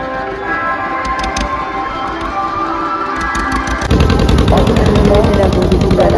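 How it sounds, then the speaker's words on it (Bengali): A ferry boat carrying people and bikes pulls away, its engine a loud, rapid mechanical chatter that steps up sharply in power partway through and keeps pounding at close range. "বোটও ছেড়ে দিয়েছে।"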